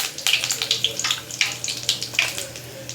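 Cumin, mustard seeds and curry leaves sizzle and crackle in hot oil, with sharp popping bursts over a steady hiss at close range while jackfruit cooking gets underway.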